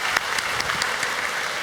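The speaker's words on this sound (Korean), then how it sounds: "우리 수고한 형제한테 박수 한번 쳐줄까요?" A church youth audience breaks into brief, steady applause, a dense patter of clapping lasting under two seconds with a few sharper individual claps.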